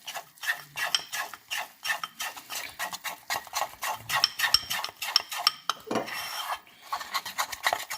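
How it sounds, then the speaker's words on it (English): A flour-and-oil roux paste gets stirred in a pan, producing repeated rhythmic scraping and rasping strokes of a utensil against the pan, close and distinct, with a brief pause near the end. "you're going to get a bit of oil and you're going to mix this till a paste"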